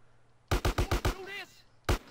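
An M4 rifle fires in Grand Theft Auto: San Andreas, a rapid burst of about five sharp shots, then a short warbling effect and one more loud shot, close and punchy.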